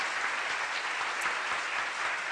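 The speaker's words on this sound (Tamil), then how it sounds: "கரகோஷம் கொடுத்து வாழ்த்து தெரிவித்தார்" A crowd claps steadily, dense and sustained throughout, with no voices standing out.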